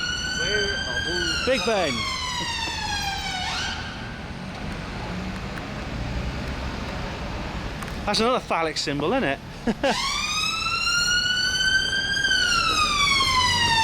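An ambulance siren wails on a London street near Big Ben, rising and falling in long sweeps, breaking off midway amid traffic noise and then returning loud and close, while someone talks over it.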